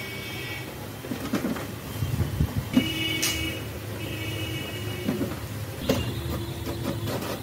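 An HP Smart Tank inkjet printer making a black photocopy after a paper jam: whirring feed motors, repeated mechanical clicks and clunks, and tonal servo whines as the paper is pulled through, close and moderately loud.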